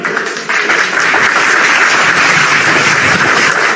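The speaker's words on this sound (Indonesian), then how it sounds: "Oke, tepuk tangan dulu." An audience at a religious debate gathering breaks into sustained, dense applause that swells after a brief pause and carries on at full volume.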